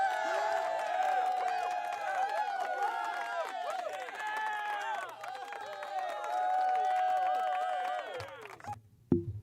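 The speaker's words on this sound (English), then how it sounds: "Here's a little cheer for you" Crowd cheering sound effect played for a successful futures trade: a continuous wash of many voices shouting, whooping and clapping at steady loudness, cutting off abruptly near the end.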